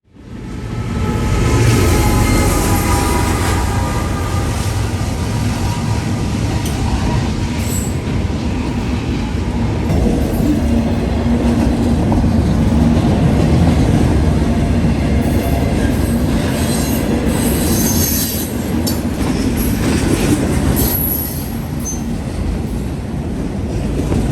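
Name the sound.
Norfolk Southern freight train 179 with NS ET44AC locomotive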